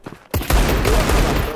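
Desert Eagle pistol fire in a video game, a sudden loud burst of gunfire after a short quiet start, with dense crackling blasts continuing to the end.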